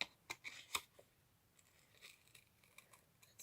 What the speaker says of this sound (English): I will actually use my rounded nail scissors.